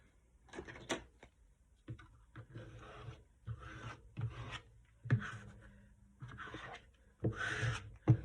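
Glued paper flaps on a book-page pocket being pressed and rubbed down by hand, a series of close dry rasping strokes in irregular bursts with short pauses between them.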